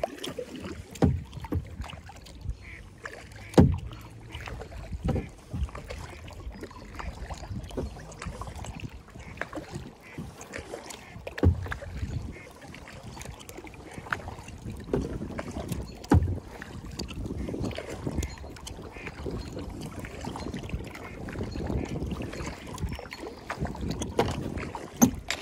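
Kayak paddling on open water outdoors, with irregular soft splashes and paddle strokes amid wind buffeting on the microphone and occasional faint voices.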